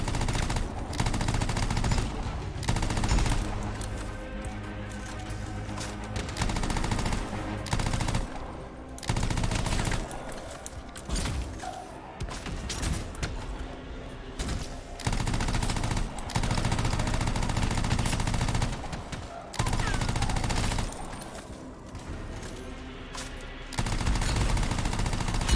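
Sustained gunfire in Anthem: long stretches of rapid automatic shooting broken by short pauses, loud and dense throughout, with no talk over it.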